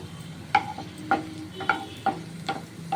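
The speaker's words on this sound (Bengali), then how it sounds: "এই মিক্সির মধ্যে এই শাকটা একটু নেড়ে নেব" Chopped pumpkin leaves and five green chillies stirred inside a mixer jar, giving a steady series of sharp, ringing clinks about every half second, close and clear with no voices.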